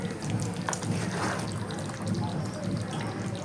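Vegetarian paneer, potato and cauliflower curry gravy simmers in a pan, giving a steady, close bubbling and gentle popping that continues evenly throughout.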